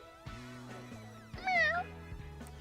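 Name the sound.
cat meowing in video game Pokémon Legends: Z-A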